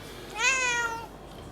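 A cat gives a single clear, close meow that rises and then trails off.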